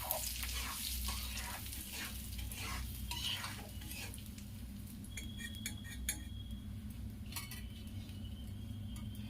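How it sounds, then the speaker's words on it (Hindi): Cumin seeds and dried red chillies crackle and sizzle in hot mustard oil and ghee while a spoon scrapes and clinks against the pan, quiet and close, with no one speaking. "मैं सरसों के तेल और घी में तड़का लगा रही हूँ।"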